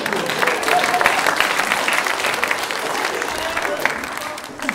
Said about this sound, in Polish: Dostałem brawa za bycie leniwym gnojem